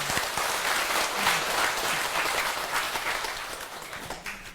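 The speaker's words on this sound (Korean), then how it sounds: "박수 한번 부탁드립니다." Audience clapping at a Buddhist lecture, a steady, full round of applause lasting several seconds, then tapering off near the end.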